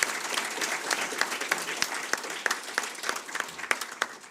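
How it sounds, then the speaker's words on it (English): A TEDx audience in Saint John applauds its speakers. The clapping is lively and continuous, with sharp individual claps standing out above the crowd's steady patter. "Another round of applause for them."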